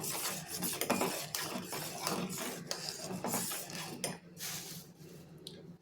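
Chili flakes and finely chopped coriander being stirred together in a bowl, a steady run of close scraping, clinking and rubbing strokes with a spoon against the dish, with no talking over it.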